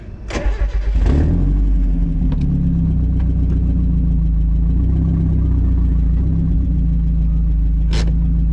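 An NA Mazda Miata's engine cranks and catches, then settles into a loud, steady idle close by, with a few faint clicks over the running engine.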